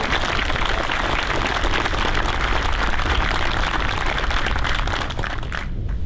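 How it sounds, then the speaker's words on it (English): A crowd applauds the 2nd Marine Division band at a Marine Corps change of command ceremony, steady loud clapping that fills the whole stretch and thins slightly near the end. "Could I ask you to help me applaud the 2nd Marine Division band today?"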